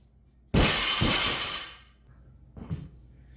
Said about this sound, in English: This bar, when you drop it, because there's some play in the sleeves and the shaft